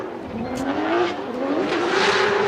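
A BMW M3 drift car held at full throttle during a Formula Drift qualifying run in Orlando, its engine wailing steadily and rising slightly, with tire noise underneath and no talking.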